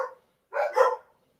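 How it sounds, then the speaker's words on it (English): Dogs bark close by, two or three sharp barks with gaps of silence between them, loud and clear with no talk over them. "Sort those dogs out, man."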